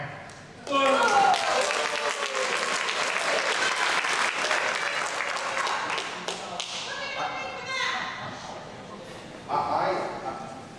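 Town hall audience in Exeter, New Hampshire bursts into loud, sustained applause and cheering that fills the room for several seconds, then tapers off before a short renewed swell near the end.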